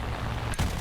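Aircraft cannon and machine-gun fire from a Bf-109 G-14 fighter in War Thunder, a loud dense roar of engine and gunfire ending in a short, punchy burst of shots.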